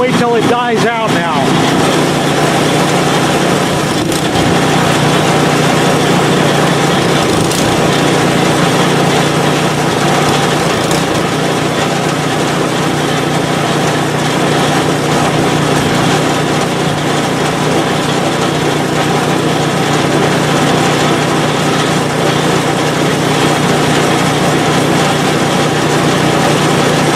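A PowerSmart 24-inch snowblower engine runs steadily and loudly close by with its fuel shut off, a constant high buzzing drone that holds for the whole stretch without stopping.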